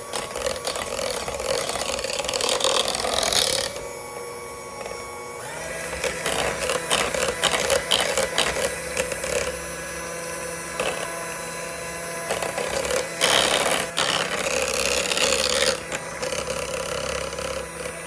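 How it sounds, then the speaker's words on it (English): An electric mixer whirs steadily as it blends a creamy hot tomato sauce dip in a bowl, a loud mechanical drone with rattling and shifting pitch, then a brief pause before it resumes, with no voices. "So now I'll turn my mixer off"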